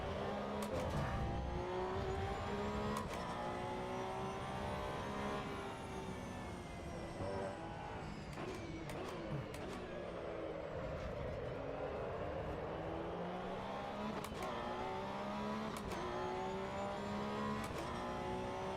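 Racing car engines in the video game Assetto Corsa Evo roar and rev continuously, pitch rising and falling with gear shifts, layered with several cars nearby, loud and steady throughout.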